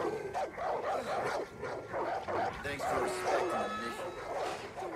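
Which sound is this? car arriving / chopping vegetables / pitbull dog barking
pitbull dog barking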